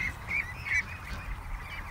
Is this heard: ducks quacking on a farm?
yes